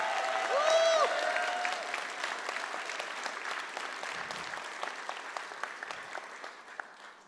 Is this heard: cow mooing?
no